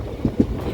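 A passenger train on the rails near Panvel gives two quick, low wheel thumps over a steady rumble, heard briefly at moderate distance.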